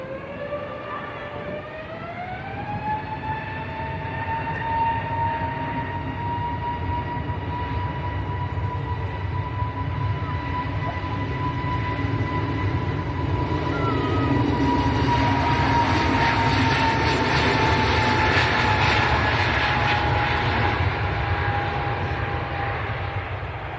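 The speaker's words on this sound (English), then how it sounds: "Pegasus next to go, A321neo. Pegasus to Istanbul." A Pegasus Airbus A321neo jet departs Manchester Airport. A rising whine climbs into a sustained tonal hum, and a broad engine roar swells louder toward the end, with no voices.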